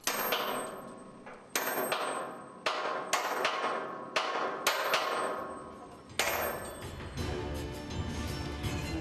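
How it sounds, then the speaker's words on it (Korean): A worker's hammer strikes split pins into the connection slots of a tower crane mast, ringing metallic clangs repeating at irregular intervals, loud and close, with a denser flurry of blows toward the end. "마스트를 고정하기 위해 연결 홈에 분할핀을 끼우고 바로 망치질이 시작되는데요"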